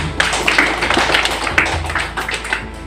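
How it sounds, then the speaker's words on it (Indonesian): An audience at a KNPI Jayapura district Rampimpurda gathering applauds the organizing and steering committees: dense, steady clapping from many hands, fairly close, sustained for a few seconds with no talking over it. "perlu yang terhormat kita berikan aplaus kepada OC dan SC"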